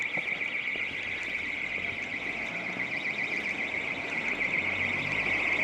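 A building alarm on Lord Street in Fleetwood rings on at night as a continuous shrill tone, fairly near and loud, over a constant rumble of outdoor noise.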